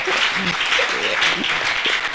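An audience at an empowering church event claps together in sustained applause while a voice speaks over it.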